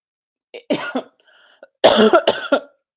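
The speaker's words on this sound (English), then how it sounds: "why am I coughing?" A few sharp, harsh coughs close to the mic, a short burst, then a brief pause and a louder cluster of two or three more coughs.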